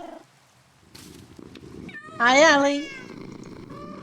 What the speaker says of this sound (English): thank you for the meow